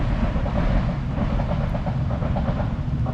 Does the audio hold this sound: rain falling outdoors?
no